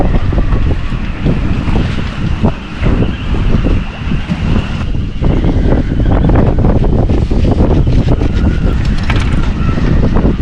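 East-northeast wind buffets a liveaboard sailboat, roaring and gusting loudly against the microphone, with rustling and water movement beneath and no talk.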